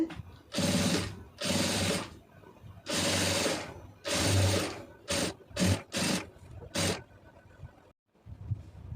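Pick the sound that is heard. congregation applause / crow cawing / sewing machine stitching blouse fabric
sewing machine stitching blouse fabric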